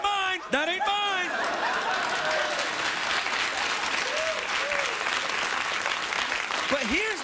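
A late-night talk show studio audience applauds loudly and continuously while a host keeps talking over the noise, with some laughter mixed in.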